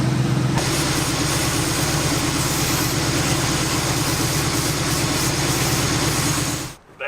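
An Oldsmobile Cutlass muscle car engine idles steadily at close range with a vacuum leak, a low rumbling drone that holds constant for several seconds before briefly dropping away at the end.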